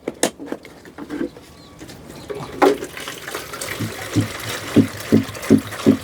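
Water running and splashing as drinking water for chickens is refilled, with intermittent pouring bursts and a few louder rhythmic splashes near the end, close by with no talk.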